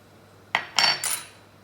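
A metal spoon clinks against a bowl of gram-flour dhokla batter mixed with Eno and salt, three quick, close, bright metallic taps in a row, then quiet.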